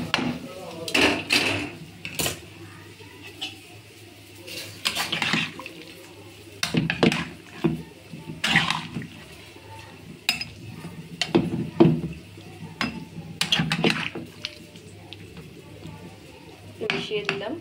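Paneer being stirred into a dish in a metal pot, with a spoon scraping and knocking against the sides in irregular close clatters and soft stirring between, and a voice talking now and then.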